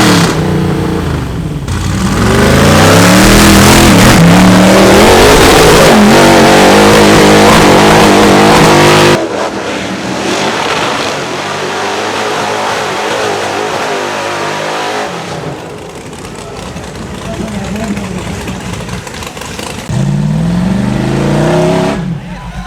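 A big-block rock bouncer buggy, a bust-and-knuckle build, roars and revs hard during a hill climb competition, with loud surging engine bursts, a pause, then more revving further off and crowd noise.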